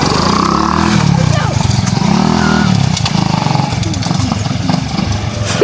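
A motorcycle engine turns over and rumbles into a loud idle, clattering close by, while people talk over it.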